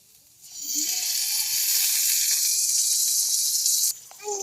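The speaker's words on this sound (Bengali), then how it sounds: "এবার আমরা জিরা ও কাঁচামরিচগুলো লাল করে ভেজে নিব।" Cumin seeds and green chilies frying in white oil in a wok, a loud steady sizzle that starts abruptly, holds for a few seconds, then dips and resumes.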